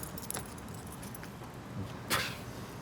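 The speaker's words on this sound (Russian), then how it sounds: "я прошу людей показать мне свои ключи" Apartment keys jangle as they are held up to show, giving light metallic jingles and one sharper rattle near the end, over a steady hum of passing cars.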